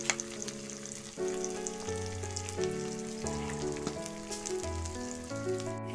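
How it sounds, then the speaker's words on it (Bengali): Bhola fish frying in a pan for a Bengali village recipe with ash gourd, a steady sizzle and crackle running throughout, with background music over it and no talking. "একটু ভেজে নেব"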